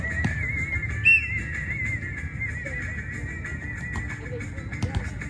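A coach's whistle at outdoor football training holds one steady, shrill tone through nearly the whole stretch, with faint background activity underneath.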